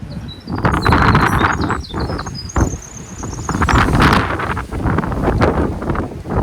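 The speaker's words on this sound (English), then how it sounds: "It's getting windy." Gusty wind buffets the microphone with a heavy rumbling roar that rises and falls, while thin high squeaks chirp above it.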